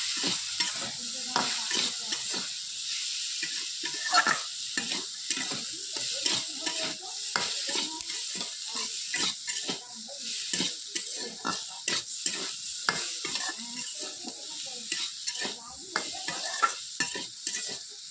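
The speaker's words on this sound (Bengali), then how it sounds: "হলুদ দিলাম হলুদ দিয়ে নাড়িয়ে নিলাম" Turmeric is stirred into food frying in a pan, giving a long stretch of rhythmic spatula scrapes and clanks over a soft, constant sizzle, close and fairly busy throughout.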